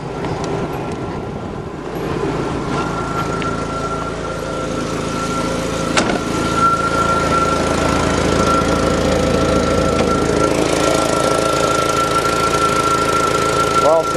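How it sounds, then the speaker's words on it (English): An old Datsun engine idles with an exhaust manifold leak under an open hood, a steady close rumble with rapid ticking and a persistent whine, while someone talks over it. "sounds like it's got a little bit of an exhaust leak at the manifold"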